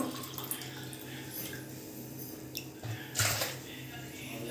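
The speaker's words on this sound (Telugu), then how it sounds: "సో వన్ గ్లాస్ పోసాను ఇంకో గ్లాస్ కూడా తీసుకుంటున్నాను వాటర్" A glass of water poured into a pan for semiya kesari, a short splashing pour near the end over faint background hum and kitchen noise.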